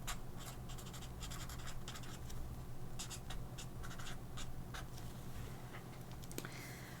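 Red Tombow ABT brush marker writing on paper, a steady close scratchy rasp of the tip dragging in short strokes and pauses throughout.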